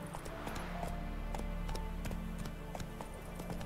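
Galloping horse hooves in Witcher 3: Wild Hunt clop in a steady, rapid rhythm, coming closer over a low rumbling game ambience, with no voices.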